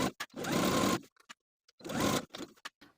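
Sewing machine stitching a 5/8 inch seam joining a placket to the center front of a collared dress, two bursts of steady whirring about a second each, separated by quiet handling clicks.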